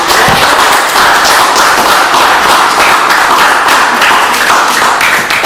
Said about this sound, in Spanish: le pido un aplauso a la profesora